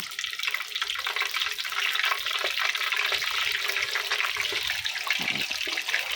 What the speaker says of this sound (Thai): พอน้ำมันร้อนได้ที่เราก็เอาปลากุเราสดลงทอดได้เลย